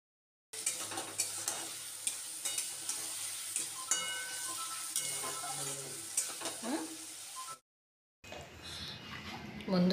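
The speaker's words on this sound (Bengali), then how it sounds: "আলু ভাজা হচ্ছে" Potatoes frying in a pan while being stirred, a continuous close sizzle broken by frequent clinks and scrapes of a utensil, then a brief silence and a short different noisy stretch.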